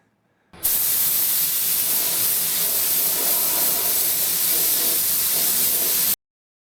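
One long continuous spray-gun hiss applying base coat in a 1974 Plymouth Duster engine bay, steady and loud at close range, starting and cutting off abruptly after several seconds.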